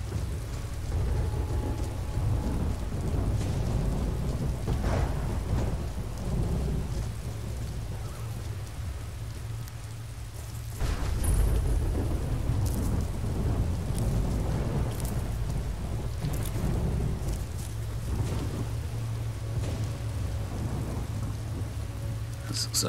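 Heavy rain hisses steadily in a Skyrim thunderstorm while deep rumbles of thunder roll underneath, swelling loudest about halfway through.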